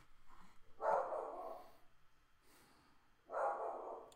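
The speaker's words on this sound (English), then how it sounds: "Don't make all the dogs bark, man." A dog gives two separate, fairly faint barks indoors in a house with several dogs, spaced a few seconds apart, with quiet room tone between.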